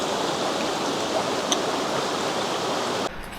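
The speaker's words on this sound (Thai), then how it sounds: "จะถึงแล้วได้ยินเสียงน้ำตก" Steady, dense rushing of the Jed Kot waterfall fills the air, continuous and fairly loud before cutting off abruptly near the end.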